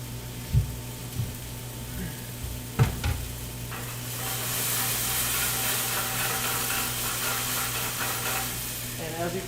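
A hot pan with sweated garlic and oil sizzling and hissing steadily, a few sharp clinks and stirs early on, then a broad steamy hiss swelling up close.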